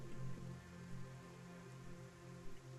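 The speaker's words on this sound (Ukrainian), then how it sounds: "А Походу йде дощ." Steady rain patters down in the video game Cataclismo, a soft continuous hiss of drops with no voices over it.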